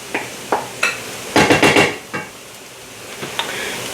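A spoon stirs pineapple chicken and rice in a pot, making a run of close clinks and scrapes against the metal, sharpest in a dense burst midway, with lighter taps before and after.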